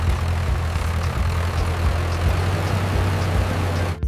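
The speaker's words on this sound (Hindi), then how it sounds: "प्यारे बच्चों देखो हिंदुस्तान ट्रैक्टर।" A Hindustan tractor engine drones steadily, a loud, constant low rumble with a rough, noisy texture that runs unbroken for several seconds with no talk.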